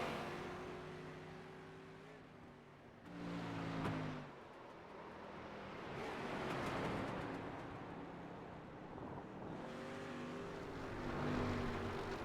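A Folgers Chevrolet race car laps the Charlotte Roval road course, its engine note swelling and fading as it revs and shifts through corners, heard at moderate distance with no talking.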